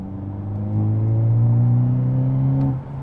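A 2022 Hyundai Elantra N plays its synthetic engine sound in sporty mode, a smooth rising rev that swells, holds loud and steady, then drops off near the end.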